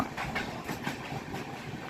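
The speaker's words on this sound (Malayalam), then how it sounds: "ട്രെയിൻ ഇതാ ടണൽ കഴിഞ്ഞ് ഇങ്ങനെ പുറത്തേക്ക് വന്നുകൊണ്ടിരിക്കുക" A train coming out of a tunnel rumbles past with rhythmic clickety-clack from the wheels, a steady rolling roar that stays fairly loud throughout.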